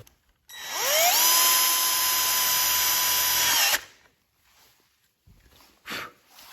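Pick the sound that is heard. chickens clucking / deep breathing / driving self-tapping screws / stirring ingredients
driving self-tapping screws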